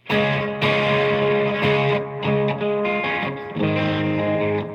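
Electric guitar through a high-gain amp with the gain turned all the way up, heavily distorted, played hard in loud sustained chords and notes with short breaks, close and alone with no talking.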